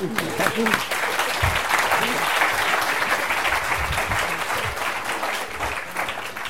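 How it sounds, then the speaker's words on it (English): A lecture audience at UPenn applauds after a talk on justice, with dense, even clapping that carries on throughout while a voice and low murmurs break through at moments. "Let's uh, give a round of applause"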